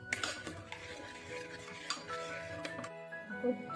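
A spoon scrapes and stirs milk around a metal pot, a steady clinking swirl close by, with faint kitchen hum in the background.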